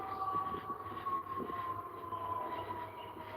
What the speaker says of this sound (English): That's fire truck.